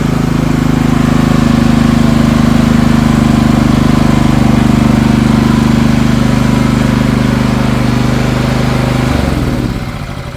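A generator engine runs loud and steady at close range with a constant droning rumble, then its sound shifts and fades slightly in the final second.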